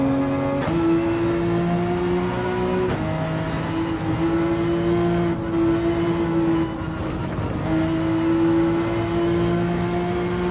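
Porsche 911 in the Gran Turismo 7 racing game, its engine revving loudly and steadily, with pitch climbing through gears and brief drops at shifts around three and eight seconds.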